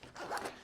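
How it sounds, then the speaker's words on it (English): Quick, scratchy zip of a stiff zipper on a cheap Temu tool bag, a single short close pull, fairly faint and alone. "I had a really hard time even getting it to zip open and closed."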